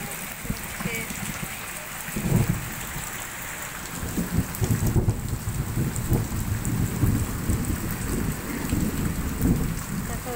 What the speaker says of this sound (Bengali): মেঘ ডাকছে